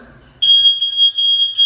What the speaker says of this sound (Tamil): நமக்கு அலாரம் பார்த்தீங்கன்னா அடிக்க ஆரம்பிச்சிருச்சு